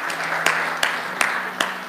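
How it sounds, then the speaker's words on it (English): An audience applauds at a church sermon, a steady wash of clapping with a few sharper claps standing out, fairly loud and close, with no voices over it. "Give them a round of applause,"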